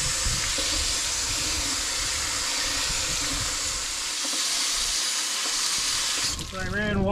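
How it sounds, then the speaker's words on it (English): Steady hiss of a garden hose spraying water across the fins of an RV roof air conditioner, continuous and close, cutting off near the end. "Try a little garden hose pressure to see what that does."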